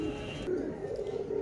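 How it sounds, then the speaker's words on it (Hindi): A breeder pigeon gives a soft, brief coo, faint and close, with low room noise behind it. "बहुत अच्छा तगड़ा ब्रीडर कबूतर है"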